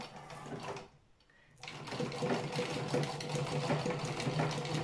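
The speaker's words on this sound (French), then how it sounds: "Et on va démarrer ma petite machine à coudre." A small manual, non-electric sewing machine runs with a steady, close mechanical whirring that briefly drops to near quiet, then starts up again and keeps going continuously, with no speech.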